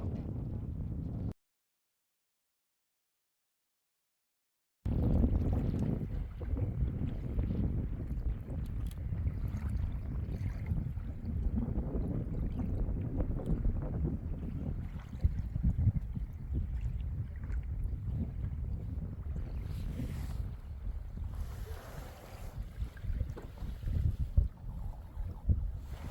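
Kayak drifting on a bay along the Point Reyes coast, with steady wind buffeting the microphone and low water and hull noise running continuously after a brief silent gap.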